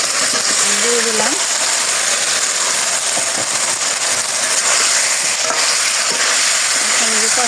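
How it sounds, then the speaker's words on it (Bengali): Spices frying and being stirred in a pan for a Bengali chorchori vegetable dish, giving a constant hissing sizzle with scraping stir sounds, while a voice talks briefly over it. "তো এই যে মশলা কষিয়ে নিচ্ছি"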